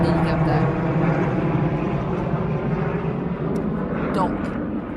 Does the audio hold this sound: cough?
no